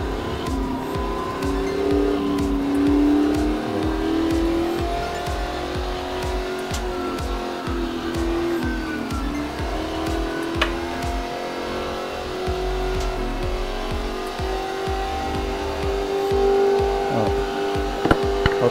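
Stock car engine roars continuously in a racing simulator, climbing and falling in pitch through revs and gear changes, with faint tire squeal and bumps; loud and close throughout, with no talking.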